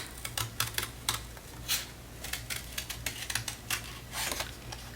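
Scissors cut a heart shape from folded paper, producing a series of crisp, close snips and rustles in an irregular rhythm.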